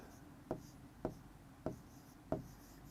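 Handwriting an answer on paper during an English test exercise: four distinct pen strokes at roughly half-second intervals, close and quiet over a soft background hum.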